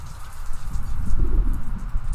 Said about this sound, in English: You can hear the rain here.